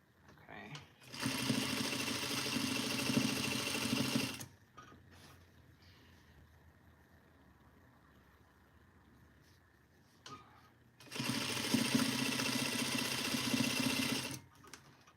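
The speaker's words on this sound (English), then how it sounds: "And then we're gonna sew this all the way down." A sewing machine stitches a fabric duster coat in two steady runs of about three seconds each, with a quieter stretch of low room noise between them, heard close up.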